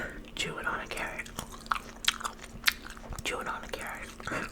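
Raw carrot chewed right at the mic: a few seconds of wet, crackly crunches in an uneven rhythm, with soft mouth sounds between bites over a faint hum.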